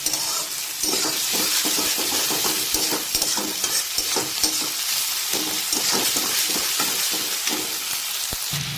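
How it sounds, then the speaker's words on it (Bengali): Onion frying in a pan with green and dried chillies nearby, a close, steady sizzle punctuated by repeated scraping stirs of a spatula, with no voices over it. "প্রথমে পেঁয়াজটা একটুখানি লাল লাল করে ভেজে নিতে হবে"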